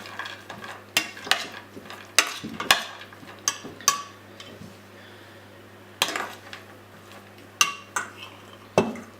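A spoon stirs raisins into a mixture in a bowl, giving repeated sharp clinks and scrapes against the dish in an uneven rhythm, close and fairly loud, with no voices.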